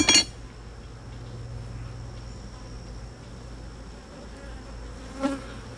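Honeybees buzz softly and steadily around an open hive during a July summer dearth, a low continuous drone with a brief closer pass near the end; no talking.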